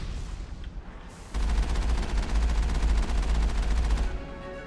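Mass Effect gunfire rattles in a sustained automatic burst lasting a few seconds, loud and close, with steady game ambience before and after.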